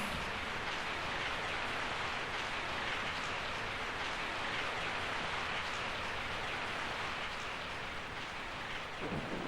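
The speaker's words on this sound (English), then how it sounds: "I woke up to the sound of falling rain." Steady, dense rainfall in Resident Evil 3 pours down throughout, a continuous hiss of drops with a low rumble beneath, loud and close, no voices.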